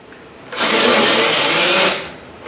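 Power tool with a socket driving a bolt during rear end axle assembly on powder-coated parts, a loud whirring burst of just over a second that spins up and winds down, close and alone.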